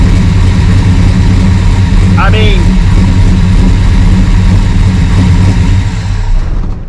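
A Mopar car engine idles after an alternator upgrade with a steady, loud low rumble; a voice speaks briefly over it, and the engine noise eases near the end.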